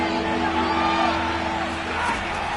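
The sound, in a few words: football stadium crowd cheering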